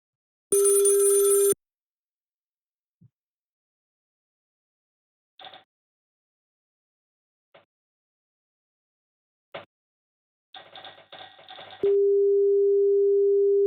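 Synthetic tones simulating a Pentaconta telephone exchange: a buzzy burst, scattered short clicks and chirps, a stuttering tone, then a steady pure tone that continues to the end, with silence between.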